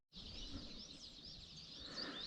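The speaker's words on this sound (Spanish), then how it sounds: "Qué montón de pájaros que hay." Flock of small birds in the snowy Pyrenees mountains, a dense high twittering chorus of many overlapping chirps, steady and fairly close throughout with a faint low rumble beneath.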